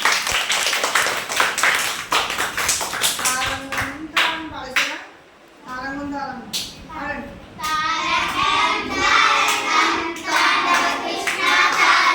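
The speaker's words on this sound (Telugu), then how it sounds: "క్లాప్స్ కొట్టండి" Students in a Telugu classroom clap their hands together in a loud, rapid burst of applause, with children's voices chattering between and after the claps.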